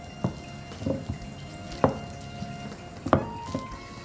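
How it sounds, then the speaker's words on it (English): Soft donut dough being kneaded with butter by hand, giving a few faint, wet squishing slaps at irregular intervals, close and quiet with no talking. "Knead the dough for almost 5 minutes"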